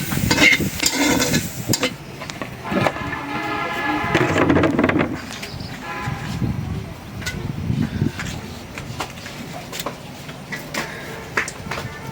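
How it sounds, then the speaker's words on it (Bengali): Small river shrimp fry in a pan for a water spinach dish, a steady sizzle and scrape of stirring running throughout with brief knocks. "ভাইজা নিতেছে"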